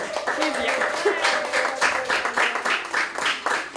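Steady applause from a crowd at a fashion show, many hands clapping in a continuous patter with a voice faintly audible beneath it.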